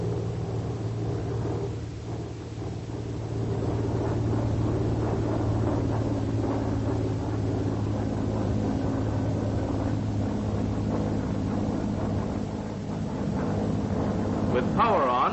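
A propeller aircraft flies steadily with wheels lowered and flaps set about 30 degrees, a continuous droning engine hum with a low rumble, heard close and loud throughout with a brief dip early on.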